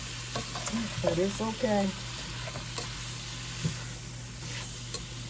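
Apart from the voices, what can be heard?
onions sautéing in a pan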